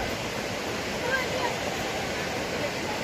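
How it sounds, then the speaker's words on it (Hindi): Bhagsunag waterfall in the Himachal slate mountains roars as a steady, dense rush of water. The noise is loud and unbroken throughout, with a voice speaking faintly underneath. "वाटरफॉल की इतनी आवाज़ में आपको कम ही सुनाई दिया होगा"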